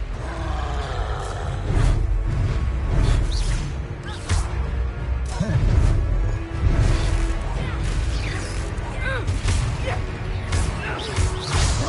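Descendo spell cast during a Hogwarts Legacy duel: bursts of crashing, whooshing impacts and roars layered over dense game action, loud and chaotic with several sharp hits spread through the scene.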